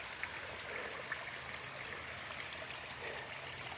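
Water runs off a hill and over rocks in Shenandoah National Park, a steady, close, broadband rush and trickle with no voices.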